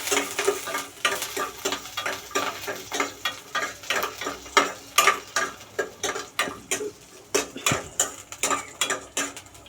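Garlic, ginger and chillies being sautéed in a pan, a steady run of sharp spoon scrapes and clinks against the metal pan over a soft sizzle, close and fairly loud, with no talking.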